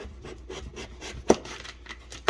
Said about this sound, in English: I'm going to use our knife just to trim the skin off the outside of this squash